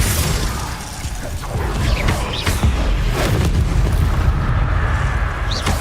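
Repeated Confringo fire spell blasts in Hogwarts Legacy boom and crackle loudly against a dense, rumbling clatter of mechanical game action, with sharp bursts recurring through the clip.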